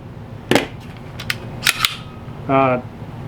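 Dry-fire trigger clicks from a Sig P322 .22 rimfire pistol: two pairs of crisp, close metallic snaps about a second apart, then a short tonal buzz, in a quiet room.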